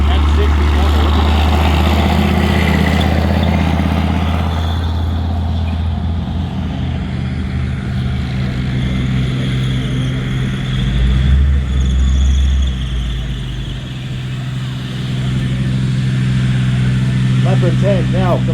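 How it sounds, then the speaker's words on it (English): An M60 tank drives during a mock battle at a Canadian tank museum, its low engine rumble steady and loud throughout, with a commentator talking over it. "M60 coming."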